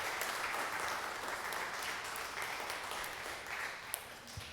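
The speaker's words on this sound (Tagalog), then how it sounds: "Pwede bang bigyan natin ng malakas na palakpak ang ating Panginoon sa umaga na ito?" A church congregation claps together through a Sunday morning worship service, a sustained dense patter of many hands at moderate distance, steady throughout with one sharper clap near the end.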